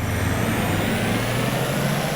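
A diesel truck engine in Farming Simulator 22 drones steadily at close range, a low continuous rumble that holds a constant level for the whole stretch, with no voices over it.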